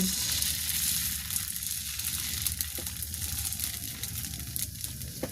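Dosa batter poured onto a hot pan gives a steady, close sizzle that runs without pause, with faint scraping and crackle on top and no talking.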